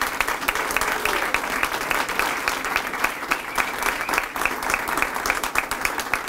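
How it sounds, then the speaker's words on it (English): A crowd at a civic announcement about commercial air service applauds steadily, a dense wash of clapping with a few voices faintly underneath. "Can we give them all a round of applause?"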